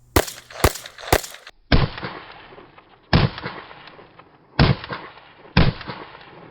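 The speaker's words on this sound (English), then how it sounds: "the sound of it going off is like this Magnum round" A Smith & Wesson M&P 22 Magnum pistol fires seven sharp, loud shots, three in quick succession and then four spaced about a second apart, each with a short ringing tail and no talking.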